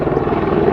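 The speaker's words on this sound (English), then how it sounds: "A helicopter is used to try and douse the flames." A helicopter flying over a burning moorland wildfire while dousing the flames, its loud, steady rotor thrum and engine roar filling the whole short stretch.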